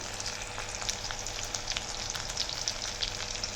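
Onion, garlic, bay leaf, and dried and fresh chilies frying in hot oil, giving a steady close sizzle with crackling pops scattered throughout and no voices.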